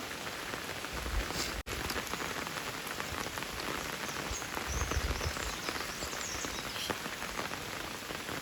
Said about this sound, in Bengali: এই বৃষ্টি হচ্ছে